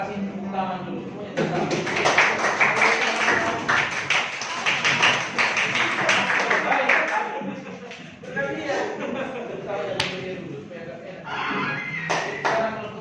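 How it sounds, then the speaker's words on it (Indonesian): A class applauding in a classroom, a dense patter of many hands clapping for several seconds that tapers into scattered claps, with students talking and laughing over it. "Tapi kasih tepuk tangan dulu semuanya."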